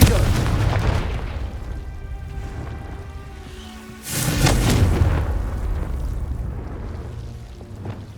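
A spell blast in a Hogwarts wizarding video game lands as a broad, booming burst around the midpoint. It swells out of a busy bed of game music and ambience, then a rumbling tail trails off.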